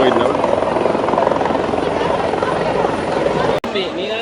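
Helicopter flying overhead at an exhibition ground in Jaffna, a loud steady rotor thump and engine roar dominating throughout, with voices talking beneath it.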